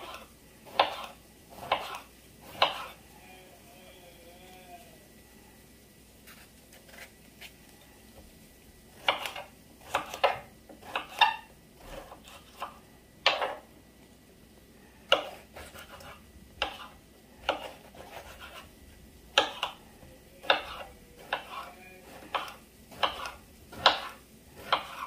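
A knife chops eggplant repeatedly against a cutting board in irregular bursts of sharp knocks, with quiet pauses between runs.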